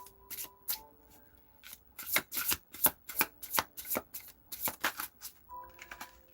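Close, crisp riffling and slapping of a tarot deck being shuffled, with a rapid run of repeated card snaps in the middle and brief soft tones at the start and end.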